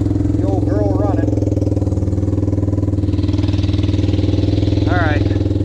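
A 1974 Honda CL200 motorcycle engine runs at a steady, close, throbbing idle for the whole stretch, with brief voice sounds over it.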